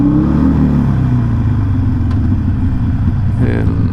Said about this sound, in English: Let's get a little exhaust rumbling under these bridges.